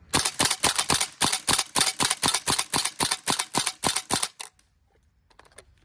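A Tokyo Marui SAIGA 12K airsoft gas shotgun fires a rapid string of about twenty sharp, evenly spaced shots, close and loud, before stopping abruptly into near silence.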